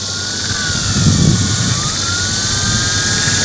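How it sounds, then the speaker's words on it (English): Small hobby helicopter flying close by, its spinning rotor blades out of balance, producing a loud steady whine with a wavering pitch and a low whooshing flutter underneath. "Well, it's a pretty good little helicopter."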